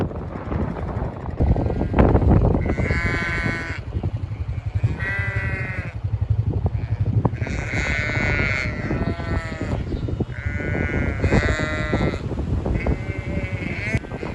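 Several sheep bleat repeatedly in a grazing field, wavering cries close by, spaced a second or two apart over gusty wind noise.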